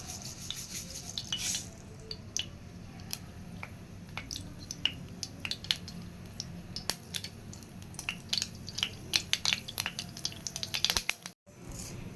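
Mustard seeds and fennel splutter in hot oil in a pan, giving scattered sharp pops and crackles over a soft sizzle, close, irregular and fairly quiet, with no talk.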